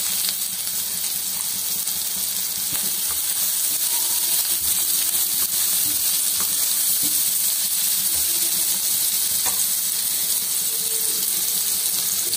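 Crushed red chili sizzles in hot oil for a tadka in a village kitchen, a steady close crackling hiss that continues throughout with no talking.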